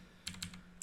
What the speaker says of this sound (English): I'll just type that out here